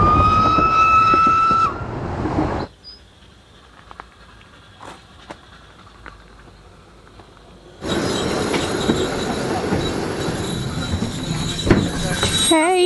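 A railway carriage rides on the Isle of Man line between Douglas and Port Erin. Wheels squeal loudly with a high metallic ring, drop to a quiet rumble with faint clicks, then return to a loud screech. No one speaks.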